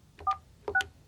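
Two short DTMF keypad tones sound in succession from a Yealink T48 desk phone dialing into voicemail, crisp and evenly spaced, each a brief two-tone beep.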